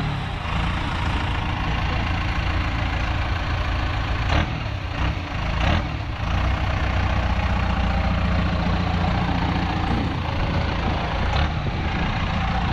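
The diesel engine of a 1956 Jeep CJ3B idles close by with a steady, loud, low rumble that runs unbroken for the whole stretch, with only slight fluctuations and no voices.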